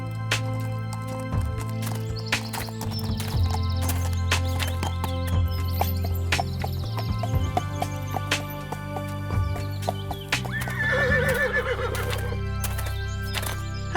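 A horse whinnies with a rising, wavering cry near the end, over a steady bed of background sound and scattered knocks that suggest hoof clip-clop, in a story setting where a newly arrived horse is brought to his owner.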